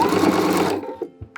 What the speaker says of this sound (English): turn our fabric so that way we can come off our seam allowance and backstitch